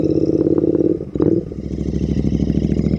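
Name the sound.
Beagle Interceptor motorcycle exhaust rumbling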